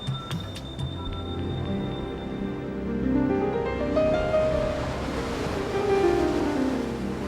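Ocean surf rolls onto a Hawaii shore, a broad rushing wash that swells and recedes in slow surges, close and fairly loud, with a few faint knocks at the start.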